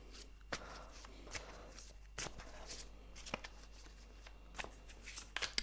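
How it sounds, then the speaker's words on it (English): A tarot card deck being shuffled by hand: soft riffling bursts and sharp slaps of cards recur irregularly for several seconds, close and fairly quiet, with no one speaking. "I'm gonna shuffle a little bit more"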